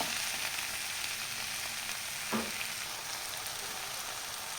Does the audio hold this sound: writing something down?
no